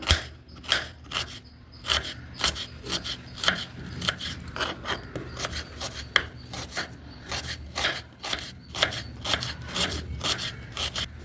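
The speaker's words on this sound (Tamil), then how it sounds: "2 சைஸ் மீடியம் சைஸ் அளவுக்கு வெங்காயம் எடுத்துட்டு நல்லா மெலிசா நம்ம இந்த மாதிரி நீட் வாக்கில் கட் பண்ணிக்கலாம்" Two medium onions thinly sliced lengthwise with a knife on a board, a close run of crisp rhythmic cuts, about two per second, with no talk.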